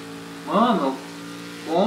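A Sauber C9 Group C race car engine in the game Project CARS 2 rises and falls in two short revving bursts over a steady low hum, with no voice present.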